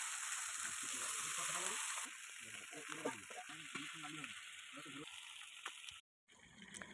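Chicken pieces (country rooster) sizzle and fry in oil in a wok, a steady bright crackle with intermittent stirring scrapes and clatters, close and continuous until a brief cut near the end.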